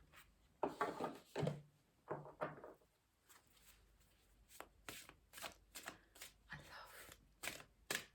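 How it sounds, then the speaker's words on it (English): Repeated riffling bursts of tarot cards being shuffled, crisp papery flutters in quick rhythmic runs, close by with pauses between. "Hearing the sound of tarot cards being shuffled."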